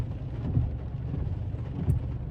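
Steady rain falls outdoors on a field in Wiltshire, with constant close patter and low wind rumble buffeting the microphone, no talking.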